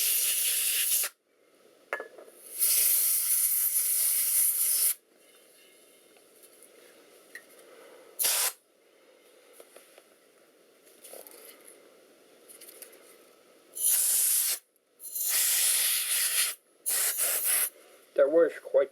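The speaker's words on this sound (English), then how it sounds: "I have 2 spray cans." Compressed-air spray can blasting dust out of a Sager D7TW laptop during a repair, in several loud hissing bursts of one to three seconds separated by quiet gaps, close to the mic.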